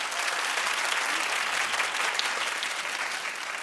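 Steady, dense applause from an audience, many hands clapping continuously at an even level throughout.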